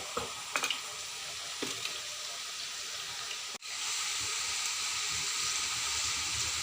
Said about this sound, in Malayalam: ഇടയ്ക്കിടയ്ക്ക് നല്ലതുപോലെ ഇളക്കി കൊടുക്കുക.